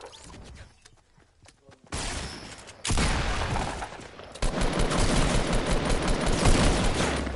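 Rapid video-game gunfire, sparse shots at first, then a dense sustained fusillade of automatic fire that grows louder and fills the second half, with no talking.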